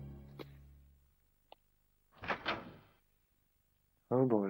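Door opening in Resident Evil 2 on the Nintendo 64, in a quiet room: a soft click, then a rising creak and heavy swing of the door, followed by someone talking.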